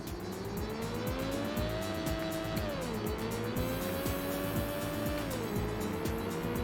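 A Porsche race car engine in Need for Speed: Porsche Unleashed on PS1 revs loudly and steadily, its pitch climbing and then dropping at each gear shift, with tire squeal mixed in throughout.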